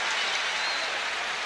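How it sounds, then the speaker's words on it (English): A football crowd applauds the Packer defense with a broad, steady roar of distant clapping and cheering that fills the short stretch with no clear speech. "another round of applause for the Packer defense as they do their job this time"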